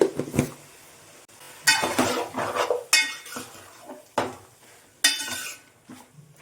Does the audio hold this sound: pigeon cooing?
no